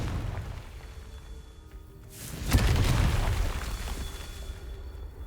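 A Confringo fire spell bursts in Hogwarts Legacy, a loud deep boom that erupts suddenly mid-clip and rumbles on for a couple of seconds over quieter game ambience.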